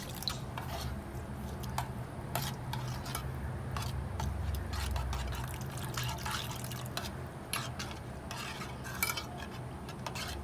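Milk powder and water being stirred together in a pot for kheer, a steady soft scraping and clinking of a spoon with small liquid drips, faint and close, with no talking.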